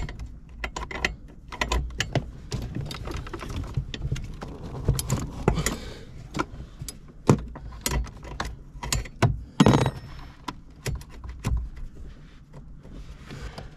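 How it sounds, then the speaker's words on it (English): A crescent wrench backs off a 14 mm sensor nut on a second-generation Toyota 4Runner, making close, irregular metallic clicks and knocks with scattered louder clanks and short pauses. "So I got my crescent wrench here, and I'm just gonna back off that nut and try and twist it out"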